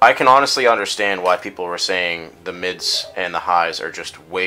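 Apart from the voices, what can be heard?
No everyday noise stands out behind the speech.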